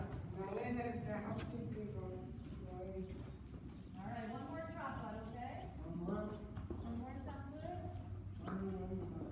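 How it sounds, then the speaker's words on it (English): Horse hooves clip-clop in a steady rhythm during a riding lesson at a stable, mostly under voices calling out throughout. "The horse is getting tired."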